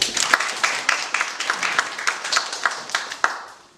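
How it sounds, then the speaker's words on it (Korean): A modest gathering of an SNS supporters' meeting claps to welcome a lecturer, with distinct hand claps standing out in an uneven rhythm over a softer bed of applause that thins toward the end. "오늘 재미있는 강의를 부탁드리며 무도 박수로 맞아주시기 바랍니다"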